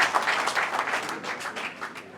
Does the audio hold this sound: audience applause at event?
yes